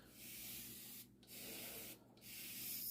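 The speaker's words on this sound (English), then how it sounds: "I only sprayed it a little on that side." A product is sprayed onto braided hair in three close, sustained hissing bursts separated by short pauses; the sound is quiet and no one speaks.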